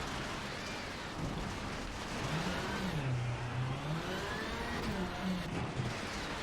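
A rally car engine in the Richard Burns Rally game revs and swells through a corner, its drone rising and falling over a constant rushing noise, with no speech over it.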